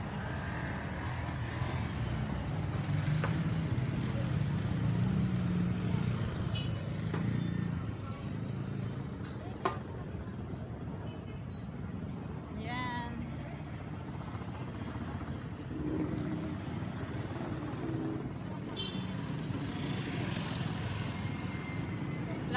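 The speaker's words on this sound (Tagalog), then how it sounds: "maingay yung mga sasakyan. Dito tayo sa highway eh." Steady roar of vehicles passing on a busy highway, heard while walking along the roadside near a gasoline station, a continuous low rumble with occasional louder passes and brief clatters.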